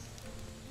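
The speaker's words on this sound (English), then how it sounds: "I don't like the rain." Steady rain patters in Starbound, a dense, even hiss of drops with no pauses, filling the brief moment without any voice.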